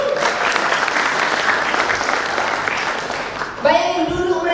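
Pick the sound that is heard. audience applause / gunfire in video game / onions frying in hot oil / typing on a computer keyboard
audience applause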